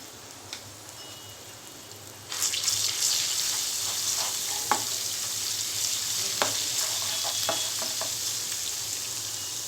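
Ginger garlic paste with turmeric hits hot oil with a sudden loud burst of sizzling that then holds steady and close, dotted with small pops and crackles.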